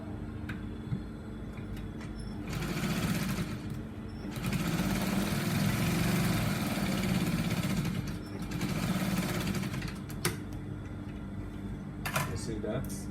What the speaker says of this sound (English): I'll be stitching this because I wanted to get an accurate center point.